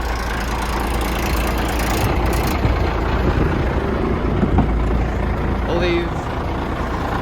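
A 1989 International dump truck with a DT466 diesel engine idles steadily in a constant low rumble, loud and close throughout, while someone talks briefly over it.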